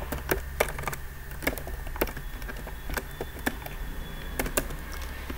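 Python code typed on a computer keyboard, with quick, irregular clusters of sharp key clicks at close range over faint room hum and no talking.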